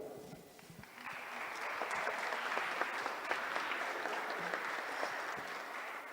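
An audience at a conference claps steadily for several seconds, a dense, even patter of many hands that swells quickly and then holds at moderate volume, heard from a distance in a large room.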